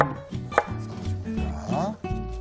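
A knife chops carrots on a cutting board while preparing kimchi fried rice gratin. The cuts sound as a few sharp knocks over a steady tonal background.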